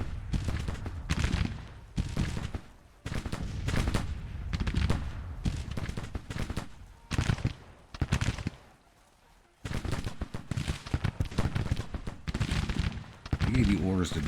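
Bursts of musket and rifle fire crackle in a Civil War battle video game, repeated volleys rising and falling in quick irregular clusters, with brief lulls between them.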